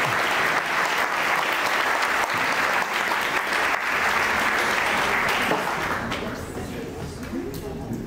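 Dense, sustained applause from an audience at a solemn academic ceremony honoring graduates, loud and continuous before thinning toward the end, with faint voices mixed in.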